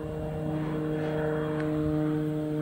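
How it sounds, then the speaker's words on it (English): An aeroplane about to land passes over a safari setting, a steady, tonal propeller drone that swells slightly louder toward the end and carries alone without speech. "There's just an aeroplane that's about to land."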